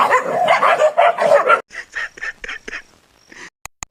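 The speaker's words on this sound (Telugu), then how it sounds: "చికెన్ షాప్ ముందు కుక్కలు కొట్టుకుంటున్నట్టున్నాయి" Dogs scuffle and bark in front of a chicken shop: a close, loud flurry of snarling barks for over a second, then a series of separate sharp yaps with short gaps, ending in a few brief snaps.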